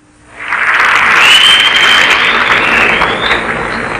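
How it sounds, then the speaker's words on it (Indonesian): Audience applause at a Minang storytelling performance, a dense, loud burst of clapping that swells in quickly and sustains steadily throughout. "Tepuk tangan untuk Saudara Kamarudin bin Ahmad"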